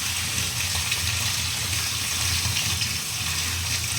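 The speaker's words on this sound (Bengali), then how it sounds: "ঠান্ডা জল দিয়ে ধুয়ে নেব" Steady cold water runs and gushes over freshly made chhana as it is rinsed to wash out the vinegar for sondesh, a continuous close splashing flow without any speech.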